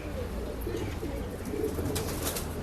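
Pigeons for sale at a pet shop in Bangalore coo in low, soft, rumbling pulses, with several birds overlapping against a steady background hum of the shop and a few faint chirps.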